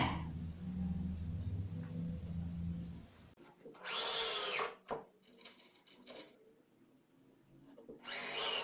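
A power drill drives angled screws into melamine cabinet panels clamped together, with a few loud, close bursts of whirring and grinding in the second half, separated by pauses, after a quieter low rumble at the start.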